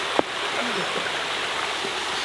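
A river flows past a house in a cool forest setting, giving a steady, close rushing of water that fills the short stretch evenly, with a small knock near the start.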